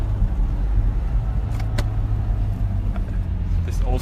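The engine of a classic single-turbo Mazda RX-7 drones steadily from inside the cabin while the car is driven and shifted through gears. There are brief mechanical clicks over a low, constant hum, with no talk in the clip.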